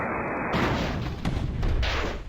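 Enemy rockets exploding around an airship in the game Airships, a loud, dense rumble of booming blasts with a couple of sharp thumps rolling over the whole moment.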